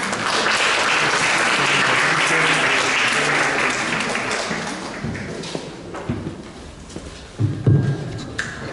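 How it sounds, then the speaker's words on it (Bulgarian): An audience bursts into loud, sustained applause to welcome a young singer and music teacher onto the stage at an evening event, the clapping thinning toward the end with a few scattered louder claps. "искам да посрещнете с бурни аплодисменти"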